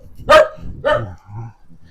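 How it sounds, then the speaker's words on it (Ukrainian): A guard dog barks at a traveller along the Portuguese Camino route, two sharp nearby barks followed by a softer, lower bark or growl. "Щось гавкає якось по-португальськи, по-нашому."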